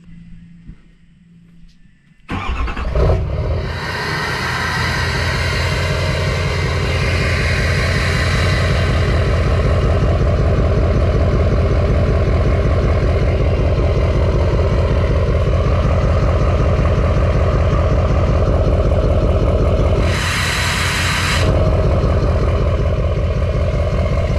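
A deep, throaty diesel engine of an LML Duramax truck rumbles steadily after starting up, loud and close, with a brief surge in the exhaust roar near the end.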